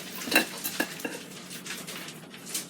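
Knife and fork scraping and clinking on a plate while cutting an air-fried strip steak cooked from frozen, a few sharp close taps followed by softer scrapes.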